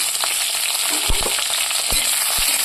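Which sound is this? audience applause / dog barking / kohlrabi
kohlrabi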